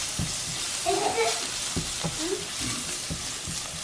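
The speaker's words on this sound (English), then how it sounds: "now I'm going to add the garlic cloves that I've just minced like that into here" Minced garlic cloves frying in a pan for an English breakfast, a continuous close sizzle with a few soft stirring knocks and a brief voice murmur in the background.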